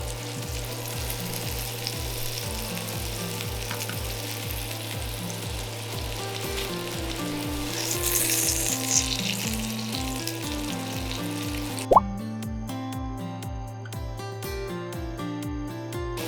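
A cheese-filled Japanese hamburg steak pan-fries after being flipped, sizzling loudly and steadily throughout with a brief clink partway through, under background music.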